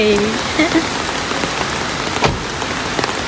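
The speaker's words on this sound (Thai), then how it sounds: "ตอนนี้ฝนตกนะคะ แล้วก็เขาเอามาเอาร่มมารับถึงที่เลย ฝนตกหนักมาก" Heavy rain pours steadily, a dense hiss of drops pattering on surfaces close by, with a few brief voices faintly underneath.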